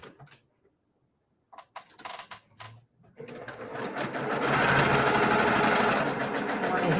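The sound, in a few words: sewing machine sewing quilt block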